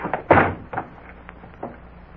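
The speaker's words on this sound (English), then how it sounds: "they rushed the door to Frank Hadley." Radio drama sound effect of a door being rushed open during a kidnapper's capture: one loud sharp thud followed by a few softer knocks and bumps over about two seconds, with no voices.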